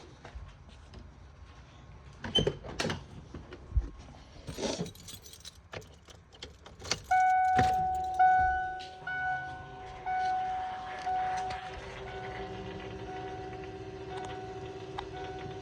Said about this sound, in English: You definitely hear that pump.